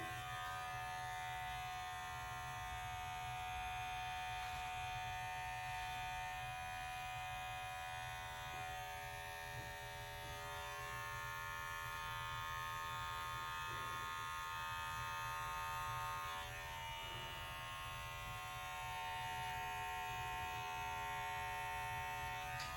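Electric beard trimmer buzzes steadily and continuously for over twenty seconds at close range, a constant droning hum with slight changes in pitch as it moves over the face, with no speech.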